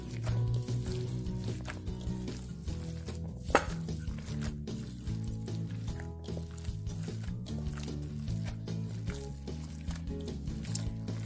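Meatloaf mixture being worked by hand in a bowl, with continuous wet squishing and squelching, occasional soft knocks against the bowl, close and fairly quiet.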